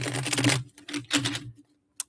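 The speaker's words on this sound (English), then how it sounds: "let me just shuffle it real quick" Tarot cards riffle and slap together in two quick bursts of shuffling close by, followed by a single sharp tap.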